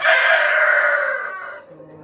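An eight-month-old Rhode Island Red breeder rooster crows once, loud and close, a single long drawn-out call that fades out at the end, with no voices.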